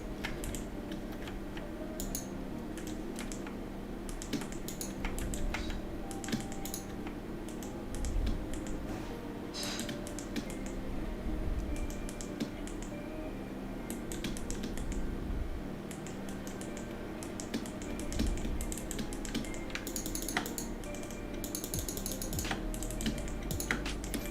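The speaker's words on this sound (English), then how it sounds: "The keyboard in my mic, you mean?" A mechanical computer keyboard is typed on during a game stream, heard through the microphone as dense, irregular clicking and clacking that runs continuously at close range, with no talking.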